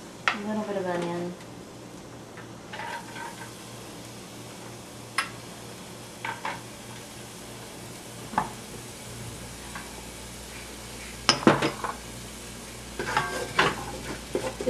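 Chopped garlic and onion fry quietly in a pan beneath speech, with a faint steady sizzle and a few scattered clicks and scrapes as a utensil stirs them.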